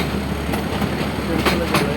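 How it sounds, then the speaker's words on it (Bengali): Train in Narayanganj rumbling past nearby with a loud continuous roll and rhythmic clatter of wheels on the rails. "ট্রেন চলে গেল।"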